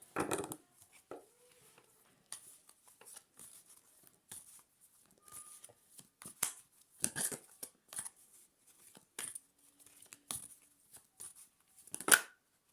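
Intermittent papery riffles and soft slaps of tarot cards being shuffled, coming in short irregular bursts with quiet gaps, close to the microphone.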